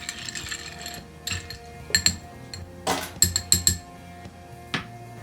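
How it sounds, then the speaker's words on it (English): A bar spoon stirs an Old Fashioned cocktail with ice in a glass, making a string of sharp clinks and rattles in uneven bursts, close and fairly quiet. "And then I'm going to stir."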